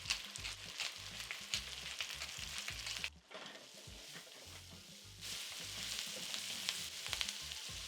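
Carrots frying in a pan with salt and black pepper: a continuous close sizzle with stirring scrapes, a brief drop near the middle, then the crackle returns strongly.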